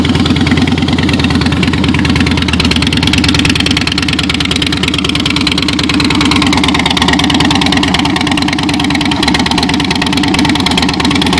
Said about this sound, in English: You can hear the fuel injection. Great sounding pipes.